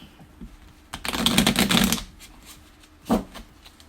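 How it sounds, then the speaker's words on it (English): A deck of Sabacc cards riffle-shuffled, with a dense, fluttering burst of card flicks for about a second and a short snap of cards a moment later, close and clear with no talk. "So these cards also shuffle like a dream."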